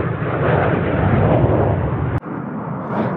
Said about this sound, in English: Oh, there goes a jet again.